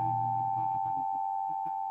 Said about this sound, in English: Just make a little sound with these forks right up by the throat.